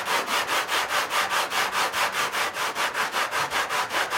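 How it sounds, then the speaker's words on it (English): Coarse sandpaper rubs a bevel onto the edge of drywall during a hole repair, a loud close rhythmic scratching with about four even strokes per second and no talk. "I'm taking a relatively coarse piece of sandpaper here, and we're just going to add the bevel."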